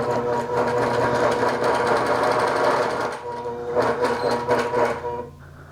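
A sewing machine stitches batik fabric into a tree wall-hanging, running steadily and loudly for about three seconds, pausing briefly, then running again before slowing to a stop.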